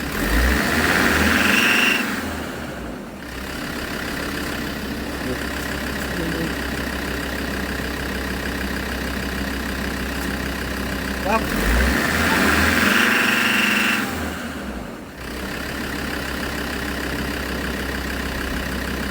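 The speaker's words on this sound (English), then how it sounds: "what is making this weird noise in the engine" A car engine idles steadily up close with an odd low rumble, and the pitch briefly swells a couple of times; the car has a faulty ABS sensor.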